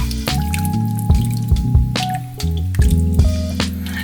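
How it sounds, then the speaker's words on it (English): Carrot soup thickened with almond powder being stirred in a pot, giving wet squishing and dripping sounds with spoon knocks, close and fairly loud with no talk. "And we stir to mix well everything."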